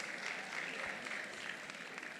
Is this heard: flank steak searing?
no